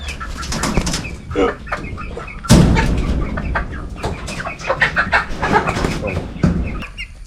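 Busy, overlapping clucking from many chickens in a coop, with sharp squawks and a brief burst of flapping wings, fairly close and steady throughout.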